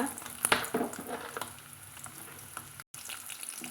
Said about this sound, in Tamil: மணலியில் கொஞ்சமாக எண்ணெய் சேர்த்துட்டு நம்ம வெட்டி வச்சுக்கிற சின்ன வெங்காயத்தை வந்து இதில் சேர்த்துக்கலாங்க